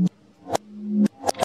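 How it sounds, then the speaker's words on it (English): Reversed one-shot samples in a Bitwig loop swell up from silence and cut off abruptly, about four short backward hits with sustained tones between them, close and dry. "It reverts all the different single one shots into reverse to read"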